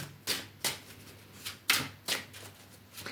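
Tarot cards are shuffled in quick crisp bursts, about seven short riffling rustles spaced unevenly, close and fairly quiet.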